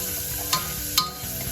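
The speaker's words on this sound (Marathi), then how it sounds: "कांदा, आता मी थोडं हे पिंक होऊस तोपर्यंत भाजून घेते." Chopped onion roasting in a pan over medium gas for rajma, a soft steady sizzle with two brief sharp stirring scrapes, faint and close.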